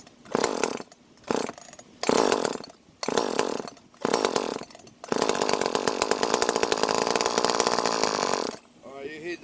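Echo CS-305 chainsaw engine firing in several short sputtering bursts, then catching and running at a steady, loud, close idle for a few seconds.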